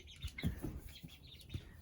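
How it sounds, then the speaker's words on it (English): Faint, scattered clucks and soft calls from a few chickens, short sounds spaced irregularly at a distance. "so checking on the chickens"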